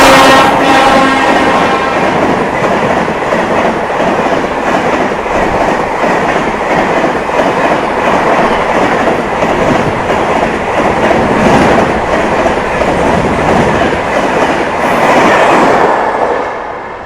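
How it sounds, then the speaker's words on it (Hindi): The Dibrugarh Town Rajdhani Express passing at speed, a loud continuous roar of wheels and rattling coaches with rhythmic clatter, close by and steady throughout before easing at the end. "ये आ गई अपनी डिब्रूगढ़ टाउन राजधानी"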